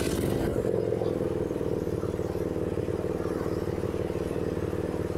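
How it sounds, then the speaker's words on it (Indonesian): A Suzuki Satria FU 150 motorcycle, modified as a scrambler, idles with its exhaust running, a loud close rumble with a steady fast pulsing beat held evenly throughout. "kita coba suara knalpotnya ya."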